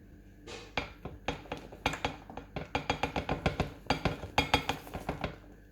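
Salad ingredients are tossed together in a bowl, a busy run of clinks and knocks from utensils striking the dish in quick uneven bursts, close and fairly crisp.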